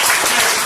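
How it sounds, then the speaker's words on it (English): A short, dense burst of audience applause at a community meeting, loud and continuous, with many hands clapping together. "Give yourselves a hand clap"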